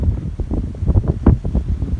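Strong morning wind buffets the microphone outdoors while a kite is flown, producing low, gusty rumbling bursts that rise and fall irregularly, loud and close, with no clear voices.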